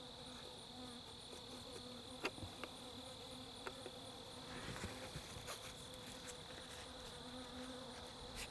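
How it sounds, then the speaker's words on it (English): Wild honey bees buzz steadily around combs set out in the open during a bee hunt, a continuous insect drone with occasional closer passes of individual bees. "I'm putting out the combs, and already there's a good bunch of bees here"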